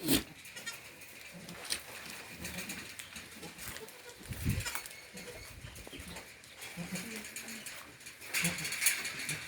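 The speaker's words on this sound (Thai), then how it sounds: "แพะสมบูรณ์ครับ แพะสมบูรณ์ คอกสะอาดนะครับ" Meat goats bleat intermittently nearby amid rustling pen noise, with someone talking over parts of it.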